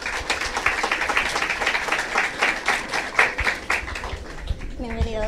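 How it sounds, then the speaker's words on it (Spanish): Audience applause welcoming a speaker at a consumer law event at UNAB, a steady run of many hands clapping with rising and falling intensity, ending as a voice begins speaking. "Démosles la bienvenida con fuertes aplausos."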